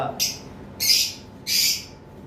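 Opaline lovebirds in a cage give three loud, harsh chirps in quick succession, each short and evenly spaced, close by with no talking.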